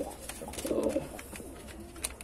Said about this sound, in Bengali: এই কালাঙ্কা ব্রিডসের নাম আমি সুলতান দিয়েছি, আমার পায়রার নাম এইগুলো সুলতান পায়রা।